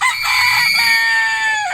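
A rooster crows once, loud and close, a long strained call that holds then drops off at the end.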